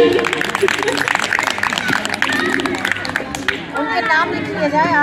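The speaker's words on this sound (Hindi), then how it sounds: "तो उनके लिए हो जाए जोरदार ताली।" Loud, dense crowd clapping at a women's yoga day gathering in a Meerut park fills the first few seconds. It then fades as a voice begins speaking over quieter chatter.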